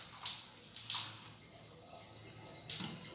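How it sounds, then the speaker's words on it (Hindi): Water draining out of an electric geyser water heater during cleaning, carrying calcium scale flakes, a quiet splashing trickle with a few sharper gushes and drips, heard alone without talk. "फिलहाल पूरा पानी निकल जाने देता हूँ।"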